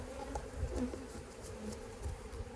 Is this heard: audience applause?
no